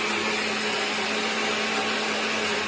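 A blender roars at a steady, loud, unbroken pitch as it grinds green chutney of mint, coriander, green chillies, garlic, cumin, salt, a piece of onion and lemon juice. The sound is close and stays level throughout.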